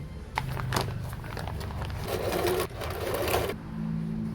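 A sewing machine runs steadily, stitching handbag fabric, its needle chattering in a fast even rhythm with a brief pause midway, close and loud with no talk.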